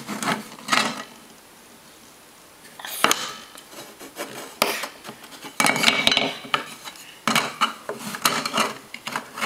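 A small child plays at cooking with toy pots and utensils, producing bursts of clattering, rattling and scraping in irregular clusters, close and fairly loud, separated by brief quiet gaps.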